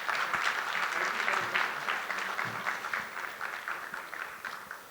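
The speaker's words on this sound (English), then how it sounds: "you should be giving him a big clap" Applause rises from the crowd at an awards ceremony, a moderate, somewhat distant clapping that swells briefly and then gradually thins out.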